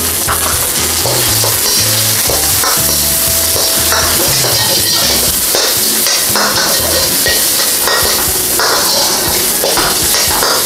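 Shrimp fry and get stirred together with yakisoba-style instant noodles in a hot pan, giving a steady loud sizzle with scraping and tossing clatter throughout, no voices.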